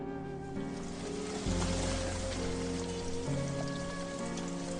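Steady rain falls outdoors on a slippery downhill path, a dense, loud hiss that holds for the full stretch, with a low hum and some faint tonal notes underneath.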